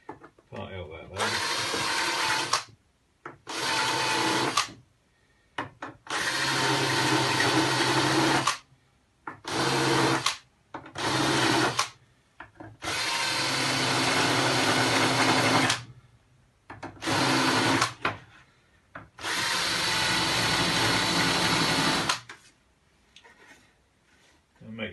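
Power drill countersinking screw holes in a wooden hatch with brass fittings during a narrowboat fit-out: repeated close, loud whirring bursts of varying length separated by short silent pauses.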